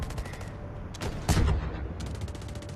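Gunfire in the mobile shooter game Delta Force Mobile comes as rapid automatic bursts, with a louder heavy burst in the middle and quicker rattling shots after, close and punchy, with no talking.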